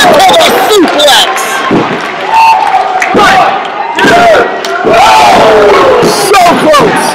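A wrestling crowd on its feet roars and chants throughout a House of Glory match, with loud sustained cheering, rising yells and occasional slams from the ring.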